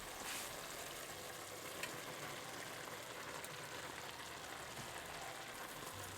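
Rinsed sour bamboo stirred into a pot with slow-cooked pork makes a quiet, steady crackling sizzle with faint scraping from the mixing, even in level and unaccompanied by voices.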